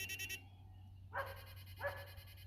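A dog barks nearby twice in quick succession, two short sharp barks separated by under a second, over steady outdoor background noise with no talk.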